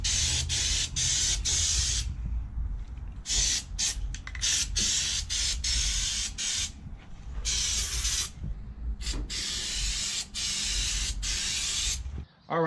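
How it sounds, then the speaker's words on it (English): Internal frame coating is sprayed onto the exposed subframe of a 1970 Plymouth Barracuda, loud close aerosol hisses in short bursts and longer sustained blasts with brief gaps between them. "I'm gonna have to spray some internal frame"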